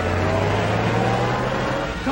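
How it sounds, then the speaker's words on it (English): A runaway car in a 1939 film serial, its engine giving a steady, loud, continuous drone that holds throughout without pause, with a faint voice partly mixed in. "Our car's running wild."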